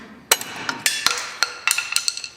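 A screwdriver clinks and snaps against brake shoe springs and hardware while fitting rear drum brakes on a 1979 Ford F150, a series of sharp metallic taps and clicks, close and distinct.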